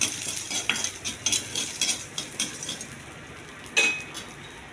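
Garlic and chana dal fry in a pan while a spoon scrapes and clinks against it in quick, irregular strokes. A faint sizzle runs underneath, close and fairly quiet, with no talking.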